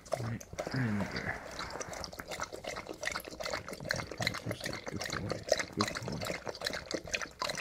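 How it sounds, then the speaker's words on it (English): Water poured into a travel water bowl for a newly adopted shepherd dog, a soft trickling and splashing running steadily at close range with a quiet voice over it. "I'm just gonna pour some water in there for you."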